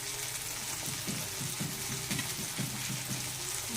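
Ginger garlic paste sizzles in a frying pan, a steady faint crackling hiss with soft rhythmic bubbling, no voices.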